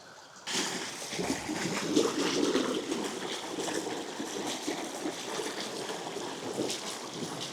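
Steady outdoor rush of a spring-fed stream in the Peak District with wind noise across the microphone, close and continuous, starting abruptly after a moment of quiet.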